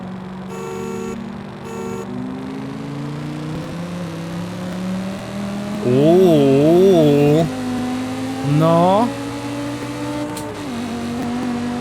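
Two BMWs, an M3 E92 and an M5 E60, rev and accelerate hard from a race start in Forza Horizon 5, rising engine tones climbing through gear changes with a brief horn beep early on, while someone talks over them.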